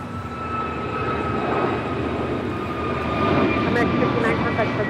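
Jet airliner roaring on approach to runway 25 left at Los Angeles International Airport, a steady loud engine rumble with a whine that swells slightly, while radio talk plays over it.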